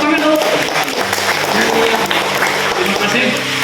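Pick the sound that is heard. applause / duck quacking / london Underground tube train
applause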